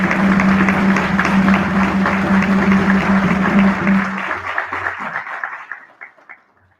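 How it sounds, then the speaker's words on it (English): An audience at a 1619 commemoration applauds for Calvin Pearson, the loud, dense clapping holding steady with a low hum beneath, then thinning into scattered claps and fading to silence. "a round of applause."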